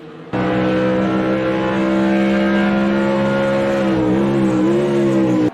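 GT1 race cars lapping Watkins Glen in a racing video game, a steady loud engine drone with strong harmonic whine that holds nearly constant, dipping and rising slightly near the end as the cars shift or brake.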